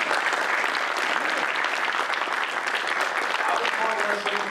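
A crowd at a comic convention panel claps in a steady, full round of applause that fills the whole stretch, with no pauses.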